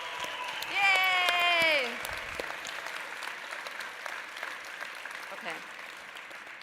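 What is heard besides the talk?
applause for the MICC staff at a gala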